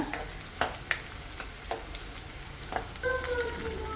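Green chillies and onion frying in oil for a peas and cabbage masala palya, a continuous close sizzle broken by sharp scrapes and taps of a spatula stirring the pan, with no one talking.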